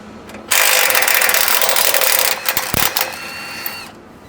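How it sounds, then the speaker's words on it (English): Lower bolt of a Panhard rod on a LandCruiser 300 being removed, a loud rapid rattling burst of a power impact tool lasting a few seconds, close, followed by a few clanks and tapering off. "The first thing you want to do is remove this lower bolt that holds the Panhard in place."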